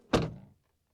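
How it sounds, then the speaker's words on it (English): The front door of a 2025 RAM RHO pickup truck swings shut with a single solid, close thud that trails off briefly, ending with a faint squeak. "that's a mostly good thud, but then there's a weird squeak sound there at the very end, peculiar"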